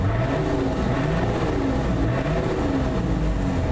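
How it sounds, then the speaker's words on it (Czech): Nissan Patrol Y60 engine revving, heard from inside the cab, a steady dense mid-range drone with rising harmonic sweeps as the throttle is blipped repeatedly, loud and continuous with no talk. "Tady vidíte, jak ten motor je silný, když přidáte, tak prostě jak to cuká s celým autem."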